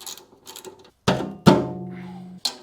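A ratchet or wrench loosens bolts on an old Ariens snowblower during teardown, producing close, loud mechanical bursts with a couple of sharp thunks and a sustained ringing rasp between them, with no talking.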